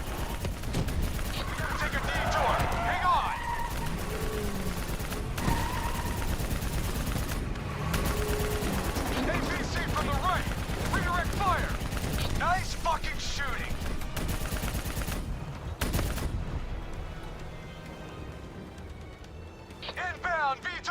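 Rapid gunfire aimed at a VTOL aircraft in the Call of Duty: Black Ops III video game, with dense bursts of shots layered over explosions, engine roar and shouting voices throughout.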